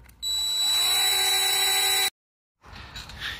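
A power drill bores a hole through a house wall to the exterior: a loud, steady high-pitched whine for about two seconds, then it stops abruptly and quieter handling noise follows.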